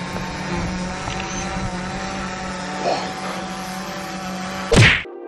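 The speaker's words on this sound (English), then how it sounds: "It's got a purpose-built Ferrari V8 turbo, capable of 800 brake horsepower." A Lancia LC2 Group C race car with a Ferrari twin-turbo V8 runs with a steady low rumble. A brief louder whoosh or thump comes just before the end.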